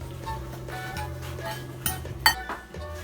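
A utensil stirs pineapple salad with sugar in a bowl, producing soft scraping and a few light clinks against the dish, close up and without speech.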